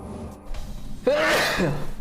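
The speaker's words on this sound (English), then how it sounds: "I gotta sneeze." A single sharp sneeze bursts out after a brief quiet breath, loud and close.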